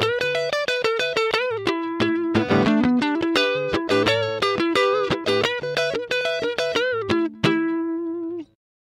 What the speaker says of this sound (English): Using Trash, you can quickly create a classic echo sound with just a few simple steps.